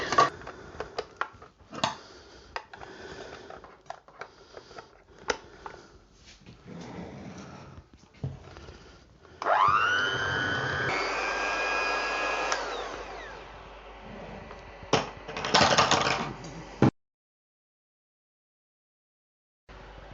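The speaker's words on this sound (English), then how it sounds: "I'm going to give that a wee whisk with my electric whisk" An electric hand whisk whirs loudly in a bowl of drop scone batter, a high buzzing drone lasting a few seconds amid earlier kitchen clatter and knocks, then cutting off abruptly into silence.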